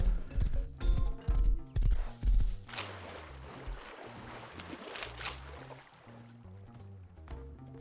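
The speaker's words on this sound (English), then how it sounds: "This guy's a full stamina horse." Horse hooves clip-clopping in the video game Rust, a steady rhythmic trot of close hoofbeats that are loud at first, then fade into a busier, softer rumble of movement.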